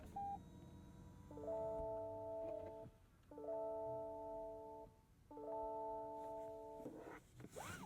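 A Lexus RZ electric SUV gives its startup chimes in a quiet cabin: three identical bursts of layered electronic tones, evenly spaced about two seconds apart.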